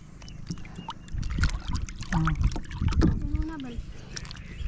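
Water sloshes and splashes around a small bangka boat in motion, with voices talking and calling in Filipino over the rushing water and wind.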